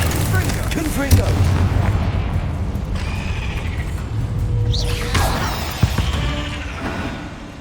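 Confringo explosive spell cast in Hogwarts Legacy: a sharp fiery burst with a whooshing rise about two-thirds through, a couple of heavy thuds earlier, over steady rumbling game ambience and music.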